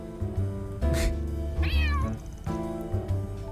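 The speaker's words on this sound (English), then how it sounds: "Isn't this little gray cat the same one from Old Town? Kinda sounds like she's got the blues." A small gray cat meows once in Trails through Daybreak 2, a drawn-out, sliding cry standing alone over steady game music, close and clear.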